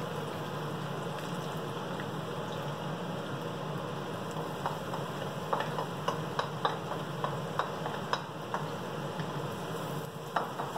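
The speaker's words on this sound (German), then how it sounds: "Also braten, bis dieser Geschmack rauskommt." Ginger, garlic, chili and spring onion frying in oil for ramen, a steady soft sizzle with scattered crackles and pops, close but fairly quiet, no talk.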